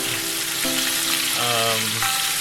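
Flour-crusted chicken fries in a pan over medium heat, a steady, loud, dense sizzle with faint bubbling tones running through it and no talk.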